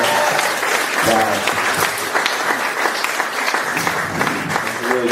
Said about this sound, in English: That's a really generous round of applause